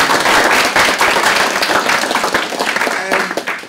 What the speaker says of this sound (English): A round of applause for Becca.